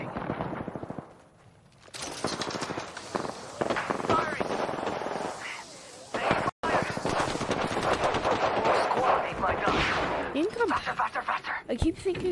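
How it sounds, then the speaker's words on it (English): Dense video-game gunfire in Apex Legends, rapid automatic bursts and loud shots nearly nonstop, with a short lull early on and a brief cut midway. "I'm getting shot at."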